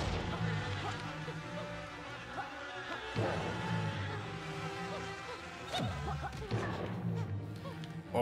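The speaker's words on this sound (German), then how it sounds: "Weil die Bienen da im Weg waren, oder was?" Swarm of bees buzzing in the video game Yooka-Laylee, a dense, steady droning hum that runs continuously under layered game music, with occasional sharper hits breaking through.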